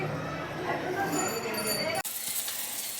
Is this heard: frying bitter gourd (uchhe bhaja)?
yes